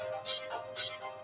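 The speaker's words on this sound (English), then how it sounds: "Is that your phone? That is my phone." A phone ringtone sounds indoors in two repeating bright electronic bursts, fairly faint and moderately close, with no talk over it.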